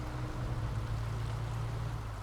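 A truck drives through water in the SnowRunner video game, a low steady engine rumble with a faint sloshing wash of water over it.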